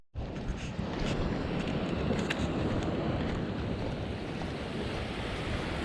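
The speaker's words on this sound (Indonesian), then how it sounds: "Di sini agak tenang ya ombaknya rekan angler." Calm ocean waves roll in steadily at a seaside fishing spot, a continuous broad wash of surf with some wind noise on the microphone, loud and close for the whole stretch with no talking.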